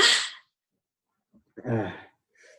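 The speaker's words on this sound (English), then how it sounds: "I'm about to sneeze again." A person sneezes twice close to the microphone, a sharp sneeze at the start and a second one with a breathy intake after a pause, followed by a faint exhale.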